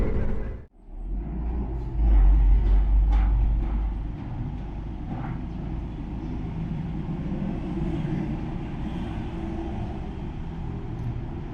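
Motorcycle riding along a road in Tarlac on a trip to Pangasinan, a steady low engine and road rumble with wind, louder for a stretch early on and then holding a constant drone.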